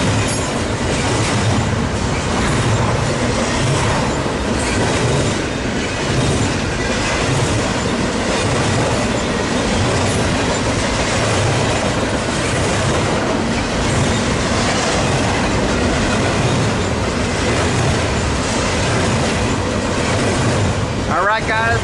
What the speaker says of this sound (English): That port stacker is closing by.